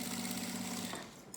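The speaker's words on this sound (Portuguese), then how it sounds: "E a gente passa a costura em toda a volta para unir esse material" A sewing machine runs a steady, quiet stitching hum as it sews around the edge to join the fabric layers of an insulated school lunch bag, then stops and leaves a brief quieter tail.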